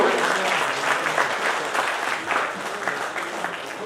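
Loud crowd applause fills a Voters Day ceremony where the district collector honours senior citizens, sustained clapping from many hands with faint voices mixed underneath.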